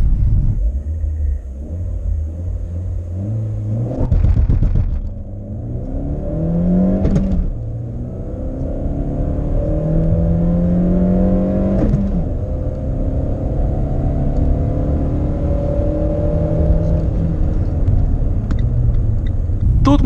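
Lada XRay on 17-inch wheels accelerating hard in sport mode, engine harmonics climbing through several gear changes with brief dips between shifts, loud and close over a steady road rumble.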